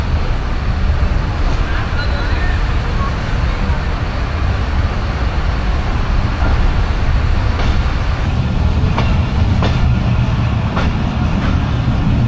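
A shuttle train on the Chapainawabganj line near Godagari Ghat, Rajshahi, rumbles steadily along its rails, with a dense, continuous low roar from inside the carriage that lasts the whole time.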